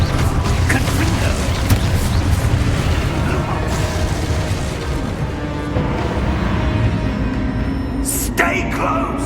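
A Confringo blasting spell from Hogwarts Legacy explodes amid a dense, continuous booming combat din. A few sharp bursts come near the end.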